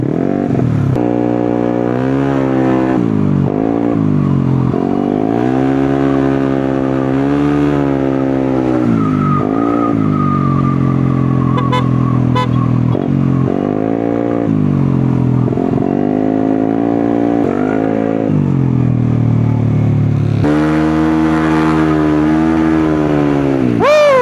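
Police motorcycle engine revving hard toward 9,000 RPM, with repeated loud rising and falling wails as the throttle is worked up and down and several climbs in pitch, close and continuous.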